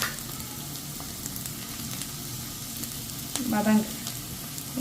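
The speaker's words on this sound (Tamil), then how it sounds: "கொஞ்சம் வதங்கும், நல்லா வதங்கட்டும்" Onions sauté in a pan at home with a soft, steady sizzle throughout, quiet and close, with a brief scraping stir near the end.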